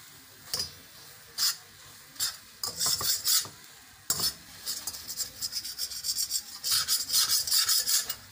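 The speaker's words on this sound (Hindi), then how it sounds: "अच्छा मुसलसल चलाना है" Chironji (chiroji) kernel mixture being stirred in a frying pan, off the flame, for a Labube Kabeer preparation: repeated close scraping and rasping strokes of a spoon against the pan in uneven bursts, alone without talk.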